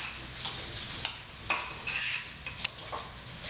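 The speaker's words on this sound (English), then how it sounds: "And then you just want to stir in your blueberries." Spoon stirring blueberries into a soft mixture of butter, citrus zest and blue cheese, with soft scraping and clinking strokes repeating over several seconds, close and fairly quiet with no talking.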